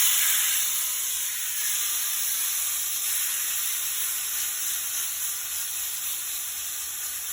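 A tender steak sizzles in a hot cast iron pan, giving a steady, close, bright hiss that fades slightly over several seconds with no talking.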